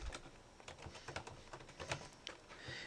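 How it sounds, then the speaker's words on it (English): Quick, uneven bursts of keystrokes on a computer keyboard, light clicks pattering close by and fairly quietly with short pauses between runs, no talking. "So I'll type that down here at the bottom."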